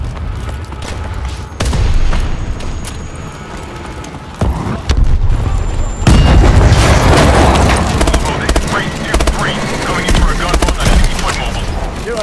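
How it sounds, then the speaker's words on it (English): Loud video game pressure explosion in a Call of Duty Advanced Warfare battle, a sudden heavy boom and rumbling blast that builds midway, with gunfire-like crackle and clatter around it and voices shouting. "Pressure explosion! This place is going up!"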